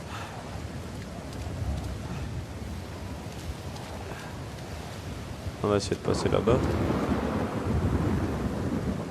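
Rain and thunder from the video game Uncharted 4: a steady rain hiss with low rumbling thunder throughout, while someone talks over it partway through.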